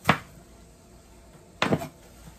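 Two sharp knife chops through an onion on a cutting board, spaced about a second and a half apart, close and crisp with quiet between.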